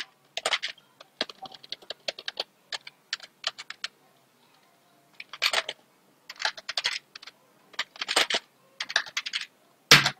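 Fingers tapping out a new password on a computer keyboard, close and crisp keystrokes in quick irregular bursts separated by brief pauses, ending on a sharper final press, with no voices.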